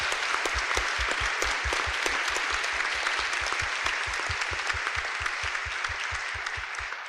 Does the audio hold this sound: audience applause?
yes